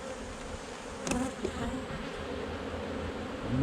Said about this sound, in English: there ain't many bees in here for 3 boxes